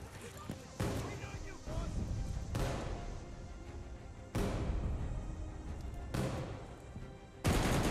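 Mortar fire in the video game Call of Duty Vanguard: several heavy, sharp blasts land at intervals, each followed by rumbling debris and gunfire, with shouted voices in the mix.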